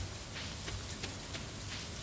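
Rain falls in the Stardew Valley video game as a soft, steady patter and hiss that is faint and even throughout, with no voices.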